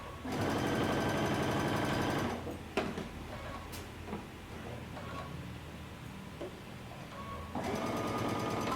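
A sewing machine stitching pant seams runs in two loud steady whirring bursts, at the start and at the end, with quieter clicks, taps and fabric handling between them.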